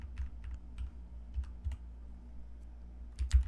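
Computer keyboard typing while coding, a few short bursts of quiet key clicks with pauses between, close and soft, under a low steady hum and no talk.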